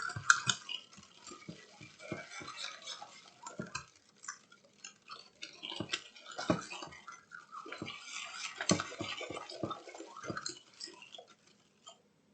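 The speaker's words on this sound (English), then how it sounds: "You're going to whisk that around until you get it mixed real good." A whisk beats caramel pudding sauce in a bowl, producing rapid, irregular clinking and ticking against the sides, light and close, continuing steadily with no voices.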